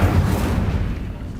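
An Incendio fire spell cast in Hogwarts Legacy bursts out as a loud, deep whooshing boom with a rumbling low end that fades over a second and a half.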